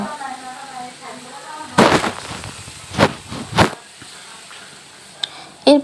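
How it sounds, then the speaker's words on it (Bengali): Fried fish is sautéed with spices in a hot pan, giving a low sizzle broken by a few sharp, loud spattering pops and bursts. A voice murmurs faintly at the start. "মশলা দিয়ে ভেজে রাখা মাছগুলো কিছুক্ষণ কষিয়ে নেব"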